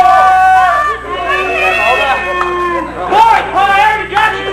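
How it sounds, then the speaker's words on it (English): Fans at a BSPW cruiserweight championship wrestling match shout and chatter in a loud, close crowd, individual voices rising over a busy babble. "Let's listen to what the fans have to say."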